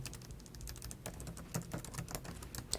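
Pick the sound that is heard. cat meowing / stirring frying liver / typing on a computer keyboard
typing on a computer keyboard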